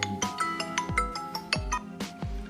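A smartphone running a third-party MIUI 11 theme plays its incoming-call ringtone, a bright repeating electronic melody of plucked tones with bass thumps, fairly loud and alone.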